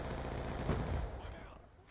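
Gunfire in the shooter game Black Ops 2, a dense burst of rapid shots crackling close and loud for about a second before tailing off.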